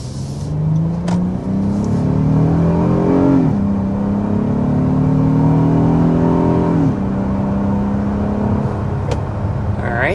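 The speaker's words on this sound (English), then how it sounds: "first we need to start with a hard acceleration" Heard from inside a 2026 Honda Odyssey minivan, the engine surges under hard acceleration toward 60 mph uphill, its rising drone climbing through gear shifts with steady road and wind noise.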